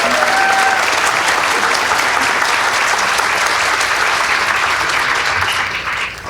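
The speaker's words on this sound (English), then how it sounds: "Can we give him one more round of applause, please?" Loud, dense applause from a school audience rolls on steadily for several seconds after a high school mariachi performance with a pianist, fading slightly at the end.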